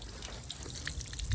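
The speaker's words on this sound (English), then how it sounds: "check out the water coming out the bottom" Rusty, dirty water trickles and drips steadily from the drain at the bottom of an old, never-serviced electric water heater, a faint, continuous dribble with small splashes and no talking.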